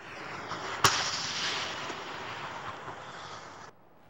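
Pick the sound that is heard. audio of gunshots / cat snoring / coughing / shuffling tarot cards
audio of gunshots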